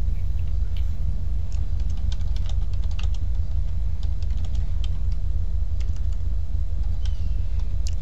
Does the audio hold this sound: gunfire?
no